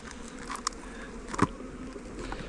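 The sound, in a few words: honey bees buzzing around hive frame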